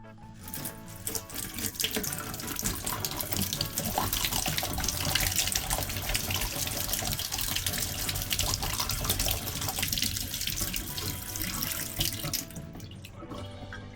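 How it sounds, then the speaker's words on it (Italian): Wild edible herbs rinsed under a running kitchen tap, a steady close rush of water splashing into the sink for about twelve seconds before it cuts off, with no talking. "Li sciacquo un po' sotto l'acqua corrente."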